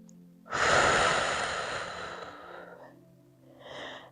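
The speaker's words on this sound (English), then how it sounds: "and slow down your breathing." One long, slow, audible breath during a yoga pose, close to the microphone, rising then easing off, followed by a softer second breath, no talking.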